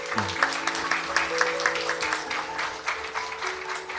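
Applause from the audience at a Korean talk concert on local autonomy, with clapping running throughout under a sustained tonal music or hum bed, fairly loud and continuous across four seconds.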